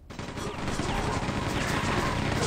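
Dense rapid weapon fire from a Quake 2 duel, a continuous loud chaingun-like barrage of overlapping shots filling the whole stretch without pause.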